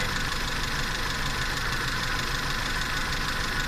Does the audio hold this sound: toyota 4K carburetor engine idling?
yes